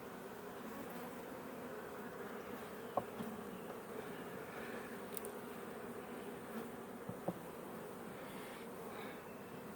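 A dense, steady buzz of many honey bees around a hive, continuous and fairly quiet, with a few faint knocks.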